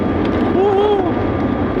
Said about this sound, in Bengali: উড়াল দিছে প্লেন।